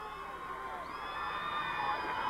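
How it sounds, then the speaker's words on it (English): A partisan crowd cheers and shouts at a high school boys soccer match, a sustained roar of voices and whoops from the far side of the field that swells slightly toward the end. "a partisan crowd goes crazy on the other side"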